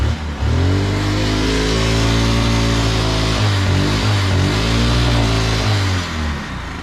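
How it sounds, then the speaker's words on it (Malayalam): A Honda engine fitted in a homemade Lamborghini replica runs through a KTM Duke exhaust, close and loud, holding a steady throaty idle-to-rev drone with a couple of brief throttle dips and rises before easing off. "ഇത് നമ്മുടെ ഡ്യൂക്കിന്റെ എക്സസ്റ്റ് വെച്ചിട്ടുള്ള ഹോണ്ടയുടെ എഞ്ചിന്റെ സൗണ്ട് അല്ലേ"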